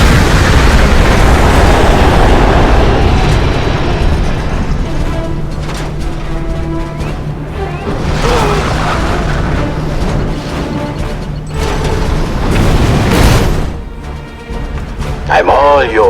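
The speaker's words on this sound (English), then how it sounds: "EMP missiles." Heavy booming blasts of EMP missiles in a video game roll out in a loud, sustained barrage, repeated bursts and rumbling impacts swelling and fading over many seconds amid in-game voices.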